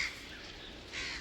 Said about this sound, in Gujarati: કાગડા કાબરો આવી છે